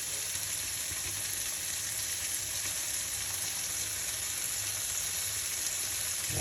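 Black Angus steak frying in butter and oil with rosemary, a steady close sizzle with fine crackle running evenly throughout, no talking.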